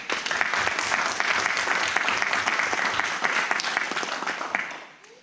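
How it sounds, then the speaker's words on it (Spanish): A church congregation claps together in a full, dense burst of applause that holds steady and loud, then tapers off and fades out near the end. "Un aplauso a Cristo."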